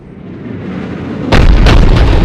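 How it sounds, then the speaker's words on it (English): A cannon firing in the video game Mass Effect 3, with a building rumble that breaks into a loud, close blast and heavy roaring aftermath, without speech. "Looks like Cerberus got that cannon operational, Commander."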